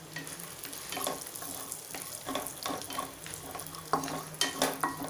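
Cashews and almonds fry in hot melted ghee, with a steady close sizzle and repeated stirring scrapes of a spoon against the pan throughout.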